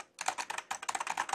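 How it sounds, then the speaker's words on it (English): Rapid, uneven clatter of keystrokes on an original Packard Bell computer keyboard, close and fairly soft, running continuously after a brief pause, with no voices. "Also using the Packard Bell keyboard."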